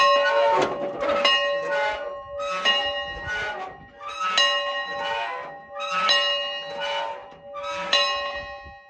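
An old schoolhouse bell in a Kansas ghost town rings out in six loud, evenly spaced metallic strokes, each clang ringing on and fading before the next, alone with no voices.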